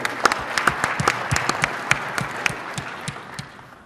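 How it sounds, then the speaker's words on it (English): Applause from a conference audience at a panel discussion, a scattered round of individual claps with sharp distinct hits that thin out and fade toward the end. "Give Sacha a round of applause for taking a hard question."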